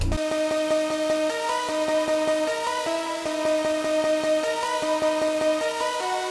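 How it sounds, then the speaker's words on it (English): A looping synth melody of steady, repeating notes with a gritty degrader distortion texture, playing continuously at a moderate level. "it adds a distinct kind of distortion or degrading to the melody"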